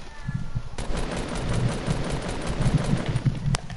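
Rapid automatic gunfire in the video game Fortnite, a dense sustained burst of shots close and loud, with brief talk around it.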